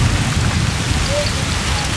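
Steady rain falling in a British Army radio advert, a continuous wash of hiss and patter with low rumble, loud and even throughout.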